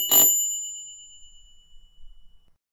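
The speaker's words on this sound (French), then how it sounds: "appuie sur la sonnette" A single bright chime rings once and fades away, followed by a few faint low thumps.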